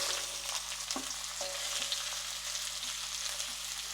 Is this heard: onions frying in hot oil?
yes